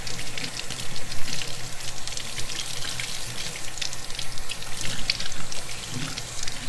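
A kitchen tap runs steadily over raw pork tenderloin being rinsed in a sink, a close, continuous splashing and hiss with uneven bursts as the meat is turned under the stream.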